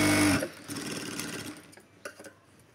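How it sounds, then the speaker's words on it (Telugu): A sewing machine runs in a loud continuous burst stitching a cloth hand seam, then stops abruptly, followed by faint handling clicks and small taps of fabric work nearby. "అదేవిధంగా ఇంకొక హ్యాండ్ కూడా ఇలా స్టిచ్ చేసుకోవాలి"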